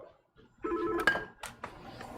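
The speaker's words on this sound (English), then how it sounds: "I gotta answer the phone." A telephone rings briefly in a bicycle shop, a single short burst of ringing that is fairly quiet and close, with no talk over it.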